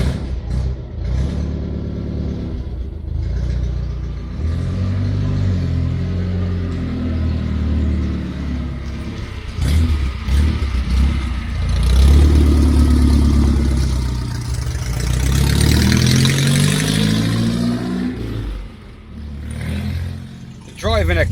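Engine of a 1975 Citroen D Super 5 running as the car drives on a private estate, a steady low hum that swells under acceleration midway, with people talking over it throughout.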